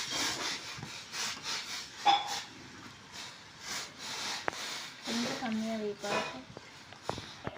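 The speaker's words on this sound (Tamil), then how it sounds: "அதனால தான் அடிக்கடி அம்மா வந்து கிண்டிகிட்டு இருக்கிறாங்க" A ladle stirs milk payasam in a pot on a stove, a steady rhythmic scraping and rubbing sound that repeats close by, with people talking over it.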